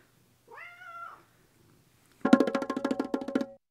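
A house cat gives one drawn-out meow, then after a short pause breaks into a louder, harsh, rapidly pulsing yowl lasting over a second, close to the microphone.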